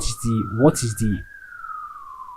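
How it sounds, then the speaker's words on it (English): A wailing emergency siren sweeps past outside, rising and holding as a long tone that carries on after a person speaking nearby stops. "I'm sorry about the sirens that you're hearing."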